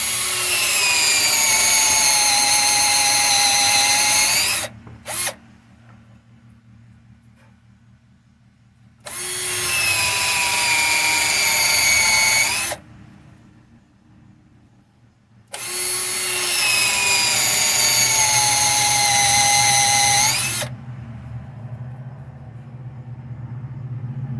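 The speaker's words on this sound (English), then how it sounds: "Hard to drill into, being the end grain." A drill bores into black walnut end grain in three loud, sustained bursts of roughly four to six seconds each, its whine steady and close, with quiet gaps between runs.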